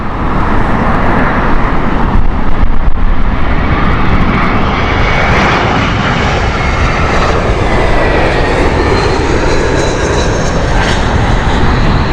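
Aircraft engines roar at Heathrow Airport, a loud sustained broadband rumble and whine of a plane passing close, steady for the whole stretch with faint traffic noise beneath.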